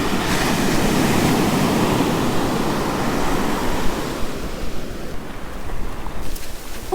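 Sea waves wash onto a South Goa beach with steady, loud surf and a constant broadband roar, easing slightly toward the end, with some wind noise on the microphone and no talking.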